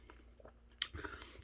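Close, faint chewing of tuna sashimi with wasabi: a few soft bites followed by a louder moist crunch and wet mastication, with no talking.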